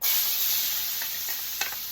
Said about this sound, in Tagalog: Gisa ako ng luya.